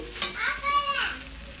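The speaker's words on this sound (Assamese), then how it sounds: "পিঁয়াজ আদা নহৰু গোটা মছলা গৰম মছলা চব মানে এফালৰ পৰা দি মেলি ইয়াক ভাজি আছোঁ" Oil sizzles in a pan as onion, ginger, garlic and whole spices fry, with a brief clatter of stirring near the start, close and fairly loud.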